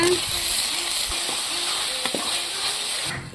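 Steady sizzling of onion and tomato frying in hot oil for egg gravy, with occasional stirring clinks and scrapes over a continuous hiss.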